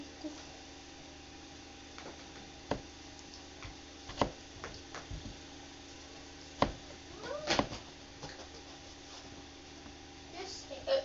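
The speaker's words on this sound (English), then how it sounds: "I forgot my dog is fighting my cat." A cat meows faintly while scuffling with a dog indoors, giving a few scattered short cries and soft knocks over quiet room noise.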